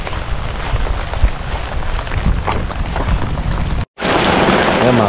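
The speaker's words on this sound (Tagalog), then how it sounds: "Medyo malakas-lakas yung ambon." Steady, fairly heavy drizzle pattering down outdoors near calamansi trees during grass cutting: a dense, loud, close hiss of falling rain that cuts out abruptly for a split second, then resumes just as strongly.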